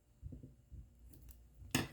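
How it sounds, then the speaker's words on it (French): Scissors snip through craft paper, cutting it into thin strips: soft handling rustles, then two sharp, close, crisp cuts near the end. "Je vais prendre mes ciseaux puis je vais les découper en petites lignes."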